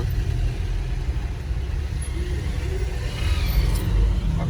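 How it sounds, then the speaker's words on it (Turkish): Heavy street traffic in Beşiktaş, Istanbul, a continuous low rumble of car engines passing nearby with faint revving swells and no distinct voices. "Çok trafik var yalnız ya."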